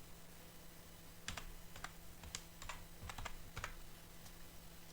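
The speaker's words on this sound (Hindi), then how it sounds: "तो डेल टाइप कर लेते हैं।" Soft keystrokes tap on a laptop keyboard in short clusters, quiet and close, over a steady low background hum with no talking.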